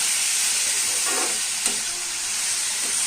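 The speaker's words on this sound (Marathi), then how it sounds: "हे बघा, कुसलेला मुळा आहे, ते परतून घेऊया व्यवस्थित" Grated radish sautés in a pan for a spicy Marathi radish chutney, producing a steady, bright hissing sizzle with a couple of faint stirring scrapes.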